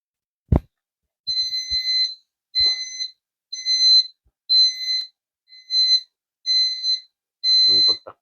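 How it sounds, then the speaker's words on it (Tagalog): A motion-sensor alarm at a small sari-sari store beeps in seven evenly spaced, loud, shrill bursts of about half a second each, with a few thumps and handling noises around them. "Nakadetect siya oh. Alarm siya."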